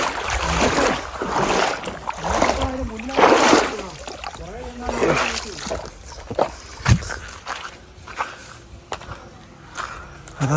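A sambar deer splashes into a stream near a settlement, with repeated heavy sloshing and water impacts at close range while people talk excitedly over the commotion.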